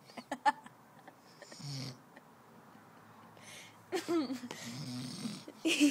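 A man snores loudly in irregular bursts, with rasping, wheezing inhales and quiet gaps between them.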